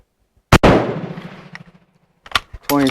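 A single loud, close rifle shot from a Mauser Colombian model 1950 or Madsen, a sharp crack followed by a long rolling echo that fades over about a second, then a few small handling clicks and a brief voice.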